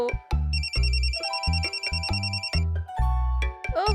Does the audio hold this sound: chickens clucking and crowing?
no